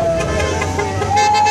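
Car horns honking from passing traffic at a Fight for 15 living-wage protest in Des Moines, a steady loud mix of beeps and road noise with engines and crowd sounds underneath.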